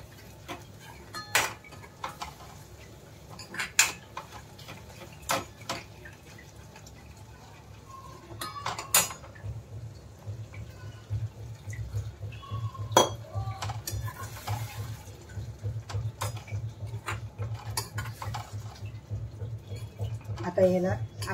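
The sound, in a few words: stirring sev bhaji mixture with water in a pan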